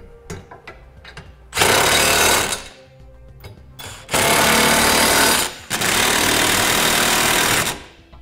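Power tool snugging bolts and nuts while mounting a Draw-Tite trailer hitch receiver on a 2016 Chevrolet Impala, three loud sustained bursts of rattling impact tool with short clicks and pauses between.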